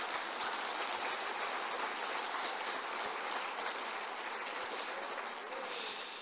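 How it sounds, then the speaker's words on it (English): Sustained applause from an audience at a youth citizenship awards ceremony, a dense steady patter of many hands clapping that continues for several seconds and fades only slightly at the end. "Let's give them a big round of applause."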